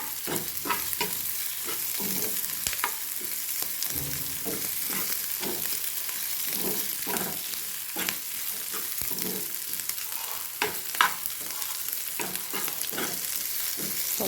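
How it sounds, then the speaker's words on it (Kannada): Vegetables frying in a pan for Chinese noodles, a steady broadband sizzle with frequent sharp scrapes and clacks of stirring spread throughout, close and fairly loud, no voices. "ಸ್ವಲ್ಪ ಫ್ರೈ ಆಗಿದೆ ನೋಡಿ ತರಕಾರಿ ಎಲ್ಲ"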